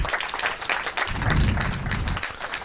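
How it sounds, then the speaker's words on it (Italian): A short burst of warm applause from an audience at an award ceremony in Italy, with dense overlapping claps rising in the middle and holding to the end. "a cui voglio fare un applauso, a Giuseppe Tripolone."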